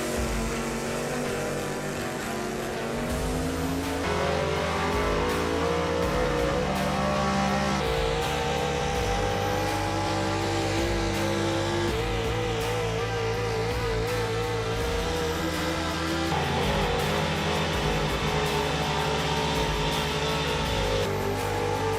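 Outlaw Street Gas four-wheel drive pulling trucks roar and rev at a truck and tractor pulling event, a loud sustained engine drone with rising and falling pitch and repeated throttle surges lasting throughout, no talk over it.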